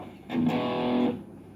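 An electric guitar runs through a Mosky preamp modeling drive pedal, giving one distorted chord that swells, holds for about a second and then cuts off, alone and moderately quiet.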